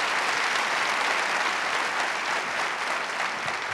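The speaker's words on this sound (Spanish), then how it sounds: "un aplauso, no se dejó" Steady applause from a TV show studio audience, dense and continuous clapping filling the space without a break.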